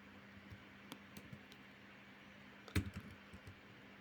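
Computer keyboard typing Python code, heard as faint, sparse keystrokes with one brief cluster of quick clicks midway, over a low steady room hum.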